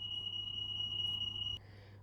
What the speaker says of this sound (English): Finally the smoke alarm's gone off.